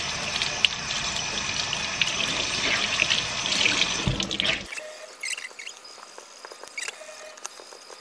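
Makeup sponges are scrubbed with Sigma brush soap under a running tap, giving a steady wet splashing and squelching for about five seconds before the flow cuts off, leaving faint dripping and small wet rubbing sounds.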